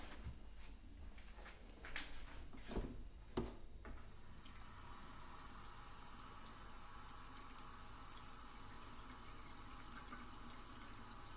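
After a few clunks and knocks of handling, tap water pours steadily into a kettle, a quiet, even hiss that runs uninterrupted to the end.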